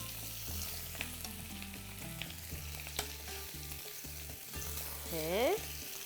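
Marinated quails browning in a hot pan before roasting, a strong close crackling sizzle with intermittent pops and a brief metallic scrape, no one speaking.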